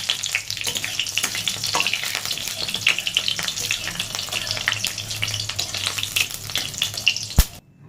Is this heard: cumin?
yes